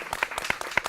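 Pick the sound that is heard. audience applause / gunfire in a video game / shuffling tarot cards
audience applause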